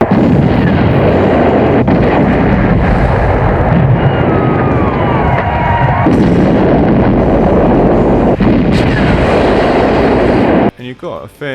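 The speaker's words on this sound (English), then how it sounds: "And you got all your lovely explosions again." Explosions and gunfire from a James Bond film roar almost continuously, a dense, loud barrage of blasts and rumbling that cuts out abruptly near the end, with what may be voices mixed in.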